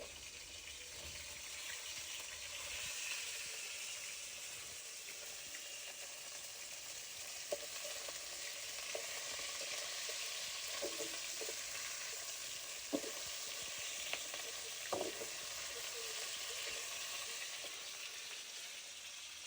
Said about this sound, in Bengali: তো এই কয়টা ঢেঁড়স ভাজা করবো।